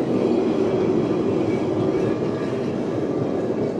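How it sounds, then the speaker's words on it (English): A Blackpool Western train tram rolls past on the promenade, giving a steady, loud rumble of wheels on rail that holds evenly throughout with no voices. "Now then, we've now got the Western train tram."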